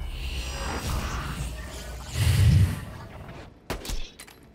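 Gunfire from a boss enemy in a video game, a dense fusillade of shots with a heavier thumping burst in the middle and a couple of sharp cracks near the end, loud and close.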